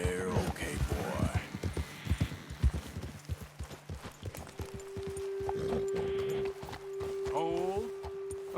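Horses walk along a road in the video game Red Dead Redemption 2, a steady clip-clop of hooves close by with a whinny, while people talk over it and a sustained tone hums in the background.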